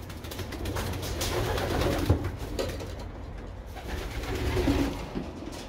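Pigeons coo softly in a loft, a steady murmur of overlapping low throaty calls with a few louder coos standing out, no talking.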